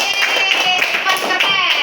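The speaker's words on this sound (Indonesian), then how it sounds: "Tepuk tangan untuk Kaivan." Classmates clapping for a pupil in a classroom at an inclusive school, a short, loud burst of rhythmic group applause lasting about two seconds, with voices mixed in underneath.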